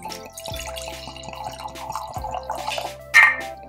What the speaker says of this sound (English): Let's go ahead and pour it into our mug and then we can give it a sniff.